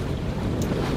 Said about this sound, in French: Il y a du vent aussi aujourd'hui. Ouais, il y a beaucoup de vent.